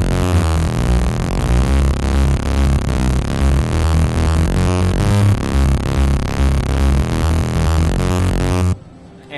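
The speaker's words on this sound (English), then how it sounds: "it gets louder, but it also gets really, really aggressive" Moog Sub Phatty analog synthesizer driven hard through its multi-drive distortion, a loud, gritty, aggressive sustained tone with dense buzzing harmonics and a pulsing low end, playing continuously before cutting off abruptly near the end.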